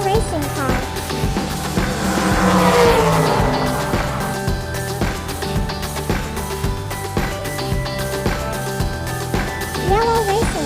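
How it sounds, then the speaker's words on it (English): A silver racing car roars loudly and continuously, engine revving with squealing, skidding tires, close and steady across the whole stretch with a swell partway through. "Silver racing car."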